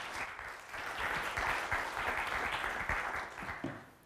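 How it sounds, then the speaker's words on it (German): Steady audience applause at a broadcasting technology colloquium in Potsdam, a dense even wash of many hands clapping in a hall, sustained without a break and moderately distant. "Bitte einen Applaus"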